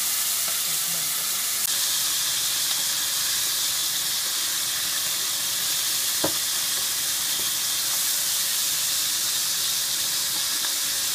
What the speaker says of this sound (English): Be careful by frying these prawns as the oil gets splattered all over.